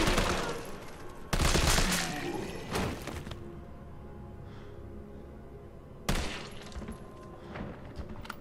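Assault rifle gunfire in the video game Resident Evil 3 Remake: loud bursts of shots near the start, a quieter stretch, then another burst of fire toward the end.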